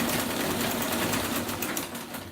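Sewing machine running steadily while stitching down a dress hem, a continuous close mechanical whir with a fine rapid rhythm that holds evenly throughout, with no voices.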